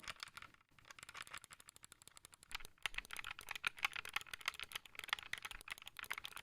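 Rapid, crisp clicking of arcade buttons with mouse-click switches on a Rana Tadpole arcade controller, many quick presses in an uneven rhythm, close up and fairly loud, no voices.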